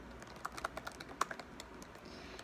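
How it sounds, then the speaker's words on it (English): Computer keyboard typing in a quiet room, a sparse, uneven run of light key clicks with one sharper tap near the middle, close and soft, with no voice. "I can ask you to go get them right now while I'm typing this"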